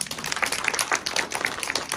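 Audience clapping at a film festival post-screening Q&A, a steady patter of many hands sustained for the whole stretch at moderate level, with no talk over it.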